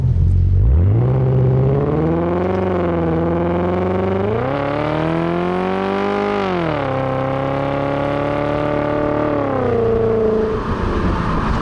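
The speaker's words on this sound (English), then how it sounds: "the engine did actually rev itself all the way out there" A Volkswagen Passat W8 engine revs steadily up through the range with a rising, harmonically rich drone, holding near the top before easing off; loud and continuous.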